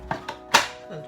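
A knife cuts through butter being cubed for shortcrust pastry, giving three crisp, close chops against a board, the last one the loudest.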